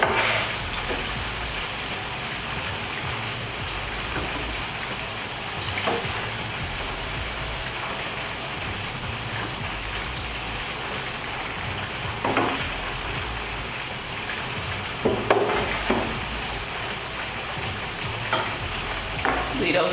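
Catfish and fish fillets frying in hot oil, a steady close crackling sizzle that runs throughout with a few louder pops and bursts of spatter.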